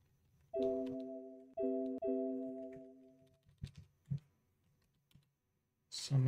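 Computer keyboard typed on during a live modding session for The Bard's Tale Trilogy: a short cluster of crisp keystrokes follows a sustained tonal sound, with quiet gaps around them and no talk.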